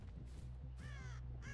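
Crows caw repeatedly inside a stealth-action video game, harsh calls arriving in quick bursts over a steady low game soundtrack hum.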